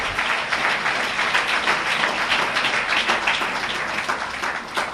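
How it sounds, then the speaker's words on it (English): Sustained applause from an audience at a mosque gathering, a dense, steady wash of many hands clapping at even loudness throughout, with no talking over it. "Let's give Brother Johnny Muhammad a well-deserved round of applause."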